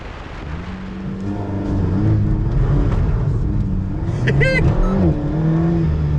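Turbocharged, Dieppe-tuned rear-wheel-drive sports car engine rumbling and revving up under load, heard loud and close from inside, with a rising whine near the end.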